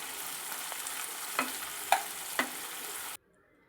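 Chillies and garlic sauté in a pan over low to medium flame, giving a soft steady sizzle with three or four faint utensil taps from stirring, before the sound cuts off abruptly.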